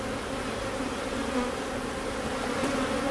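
Honeybees buzz steadily and densely throughout an open-hive inspection, a close, continuous insect drone with no voices.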